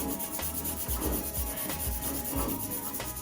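Rusty kart axle being scrubbed with Scotch-Brite and WD-40, repeated rough rubbing strokes in a steady rhythm, close and fairly loud, with no talking.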